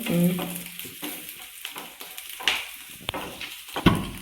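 Prawns and garlic frying and being stirred in a pan, a moderate sizzle with scraping stirs and a few sharp clinks of a utensil against the pan.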